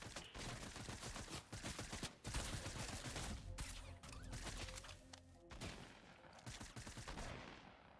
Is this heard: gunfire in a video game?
yes